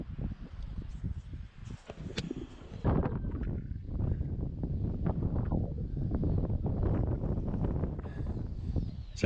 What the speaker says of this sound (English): It's actually too windy to put the camera down.